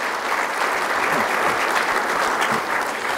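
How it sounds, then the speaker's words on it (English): Sustained applause fills a hall at an athletics hall of fame induction ceremony, a broad, even roar of many hands clapping together, loud and unbroken throughout. "let's give them all a round of applause one more time for their efforts today."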